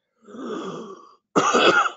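A muffled throat-clearing rumble followed by a short pause and one louder, harsher cough, close to the microphone.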